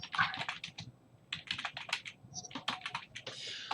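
Notes typed on a computer keyboard, a rapid, uneven stream of close, crisp keystrokes in bursts with brief pauses, ending in a longer run of quick taps.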